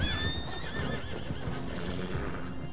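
A horse in Red Dead Online lets out a high, quavering whinny near the start, followed by a softer second call, over scattered hoof clops and low game ambience.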